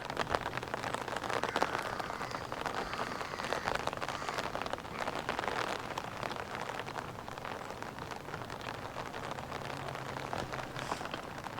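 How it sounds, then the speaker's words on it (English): Steady rain patters on the water and surroundings at a fishing lake during a match, a constant close hiss of drops with no talking. "the rain has got started again"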